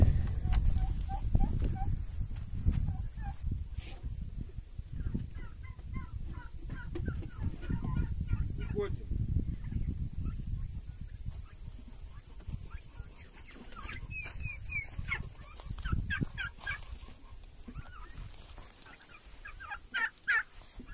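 Several turkeys gobble and chatter in bursts across the clip, close by in a pen, over a low rumbling background.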